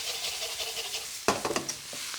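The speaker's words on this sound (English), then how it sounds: "get your ladle to the bottom of that wok. You should hear the connection." A metal ladle scrapes and knocks against the bottom of a wok while stirring Hokkien mee noodles over a steady frying sizzle, with a burst of several close, sharp scraping strokes partway through.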